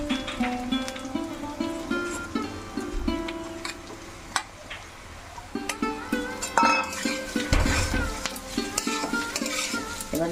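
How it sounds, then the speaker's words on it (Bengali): Washed lentils tipped into potatoes and onions frying in a pot for khichuri, with a steady sizzle, metallic scraping and stirring clatter, and several sharp knocks of a utensil against the pot. "এর মধ্যে আমি এবার দিয়ে দিব ধুয়ে রাখা ডালগুলো"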